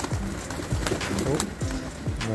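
Young racing pigeons released from the loft beside older birds, low repeated cooing and a few wing flutters close by, with a voice speaking over them.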